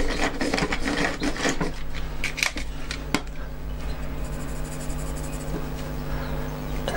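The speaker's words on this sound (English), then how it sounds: "Just sharpen my pencil again a little bit." A pencil is sharpened while drawing, with short rasping, scraping strokes at close range in the first few seconds, followed by quieter rubbing and faint background hum.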